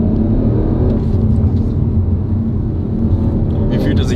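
Audi RS4 engine heard from inside the cabin while driving in Spain, a loud steady low rumble and whir throughout, with people talking over it.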